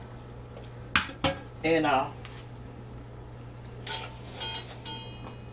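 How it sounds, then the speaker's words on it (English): Drained boiled potatoes are tipped from a colander back into a cooking pot for old-fashioned mashed potatoes, making a few sharp metallic clanks and a short scraping clatter early on, followed by quieter knocks while a person talks. "They done drained, and I'm going to put them back in this pot."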